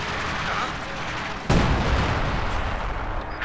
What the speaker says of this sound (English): another squad wiped out by direct artillery strike